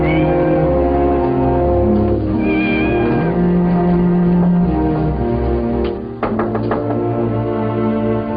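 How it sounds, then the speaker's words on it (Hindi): A cat meows in a dramatic film scene, with short rising cries over a steady bed of background music, ending with a few sharp knocks near the end. "Nice kitty."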